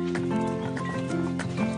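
A donkey's hooves clop steadily along a path in the Ardèche as it carries breakfast out to tree-house cabins, with an even, continuous tonal background underneath and no clear talk.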